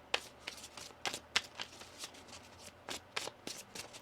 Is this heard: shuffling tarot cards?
yes